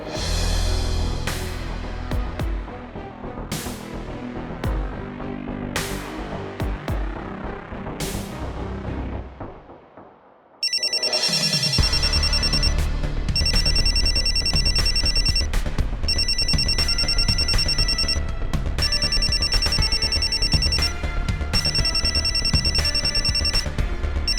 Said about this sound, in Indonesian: Om Alex ngapain telepon gue?